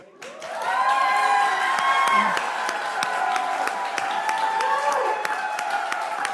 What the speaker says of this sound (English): We never get to cheer for Joe. So you have my permission right now.